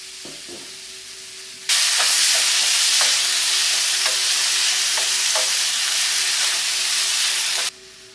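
Chopped tomato fries with onions in a hot pan for a soya chunk masala curry, a loud, even sizzle starting abruptly with occasional stirring scrapes through it, no voices.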